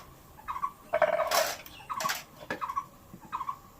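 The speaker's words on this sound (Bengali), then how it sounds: "কত রকম পাখির ডাক" Several birds call outdoors in short repeated bursts of chirps and squawks, some overlapping, at moderate distance with no talking.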